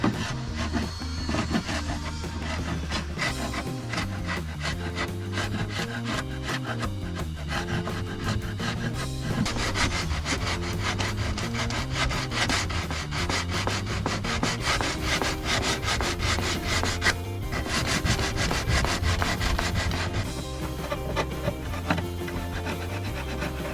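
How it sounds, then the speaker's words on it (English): Wooden floor molding inside a Renault Kangoo Maxi minivan is sanded by hand, with continuous rough back-and-forth scraping strokes, loud and close, varying in pace throughout with no talking. "now I have to sand down the floor molding too"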